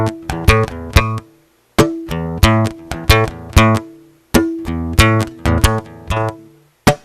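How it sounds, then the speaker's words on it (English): Electric guitar strummed in short chord bursts with a muted, percussive attack standing in for kick and snare hits, several rhythmic strokes per group, with pauses between phrases, played alone and close. "So so the modified version for your electric would sound like this."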